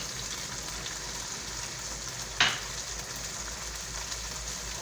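Chili sauce and soy sauce hit a hot pan for spaghetti and sizzle in a steady, close frying hiss, with one sharp spattering burst partway through.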